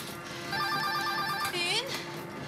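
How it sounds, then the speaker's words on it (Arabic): A telephone rings in a steady electronic trill that repeats across the clip, moderately loud in a room, with a brief rising whoop partway through. "طارق امرض على التليفون"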